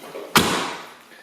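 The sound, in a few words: 1983 VW Rabbit GTI door closing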